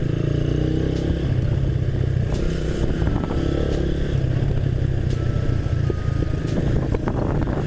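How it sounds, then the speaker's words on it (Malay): A loud motorcycle engine with anti-lag roars continuously at high revs, rough and close, with a rattling buzz and no pauses. "Dia kalau RPM rendah tak ada bunyi sangat. Dia kena RPM tinggi macam ni."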